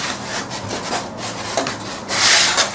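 Steady rasping of sandpaper rubbed back and forth over wood, continuous strokes growing louder and harsher toward the end, close by with no talking.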